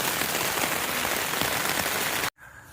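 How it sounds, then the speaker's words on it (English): Heavy rain at 1:40 a.m. drums steadily on a surface during a night on the trail, a dense, constant hiss close by with no talk, cutting off abruptly near the end. "1:40 a.m. Heavy rain."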